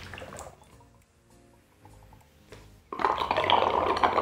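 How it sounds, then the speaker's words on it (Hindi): Water trickles and drips into a plastic bottle of a three-bottle Heron fountain, soft and intermittent at first, then a louder, fuller gush of flowing water near the end. "तो हमारा जो ये पानी है इस बोतल में, वो इस बोतल में आ जाएगा।"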